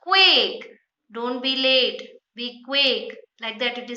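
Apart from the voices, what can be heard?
No everyday noises stand out.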